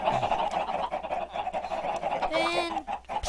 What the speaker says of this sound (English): Let me spawn some nice little chickens.